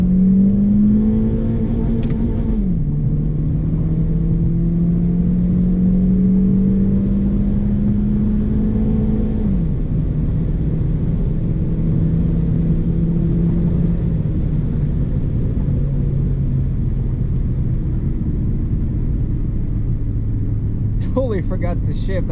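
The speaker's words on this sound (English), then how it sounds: "Wide open throttle." A rebuilt Honda engine pulls hard at wide open throttle, a loud steady drone from inside the car that climbs in pitch, dips at brief breaks, then settles lower near the end.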